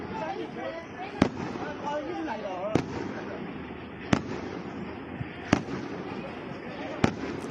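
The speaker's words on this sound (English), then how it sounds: "Yeah, they sound like firecrackers." Firecrackers going off during New Year celebrations, five sharp isolated bangs spaced about one and a half seconds apart, moderately loud over a steady murmur of background noise and distant voices.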